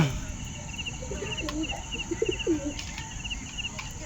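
Soft pigeon coos, a few low repeated calls, come through a steady noisy background with faint chirps, from a flock of Teddy pigeons kept by a fancier.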